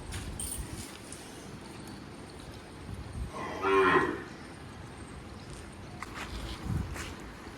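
A cow gives a single loud moo midway through, heard close over outdoor background noise with faint footsteps and shuffling.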